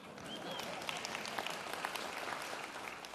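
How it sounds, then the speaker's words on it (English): A crowd applauds in honor of the Québécois at a speech, dense steady clapping filling the full few seconds at moderate loudness. "Give them a round of applause"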